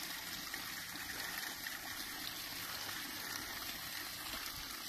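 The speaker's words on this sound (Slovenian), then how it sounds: "Le kako voda teče, vidiš?" A stream flows in a steady, broad rush of running water with no breaks, heard outdoors at moderate distance and without any voices.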